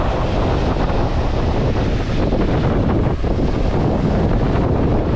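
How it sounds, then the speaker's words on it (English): Large ocean waves surge beneath strong wind buffeting the microphone outdoors in the rain, a loud, continuous roaring rush with no voices. "The waves are getting bigger."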